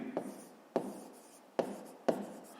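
A pen scratches across paper while working through a fifth-grade maths exercise, four distinct quiet strokes close by, each starting sharply and trailing off, with no talking.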